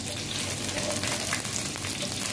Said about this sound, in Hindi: यहाँ पे चिकन को जो है वो 5 मिनट तक मैं फ्राई कर लूँगी।